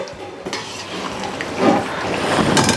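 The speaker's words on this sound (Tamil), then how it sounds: "இதை நல்லா கிண்டி விட்டுட்டு இறக்கிக்கலாம்" Fried cashews and ghee get stirred in a pot with a spoon, scraping and clinking against the metal over a steady sizzle, close and fairly loud.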